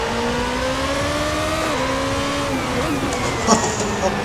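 A high-pitched ASR Formula 2 race car engine in Assetto Corsa at Zandvoort, a steady close, loud whine climbing through the revs with a brief shift dip, with no voices over it.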